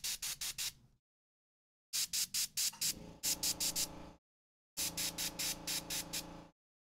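Short bursts of an airbrush spraying acrylic paint onto a troll miniature, rapid pulsed hissing in close clusters, separated by silent pauses.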